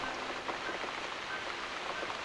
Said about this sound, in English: Looks like we got the rain back.